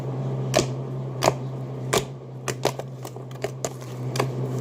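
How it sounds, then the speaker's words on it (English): Fluffy slime being squeezed and stretched by hand gives off sharp, irregular clicks and pops, about eight distinct snaps spread over a few seconds, close and fairly crisp above a steady low hum. "You can hear the clicking."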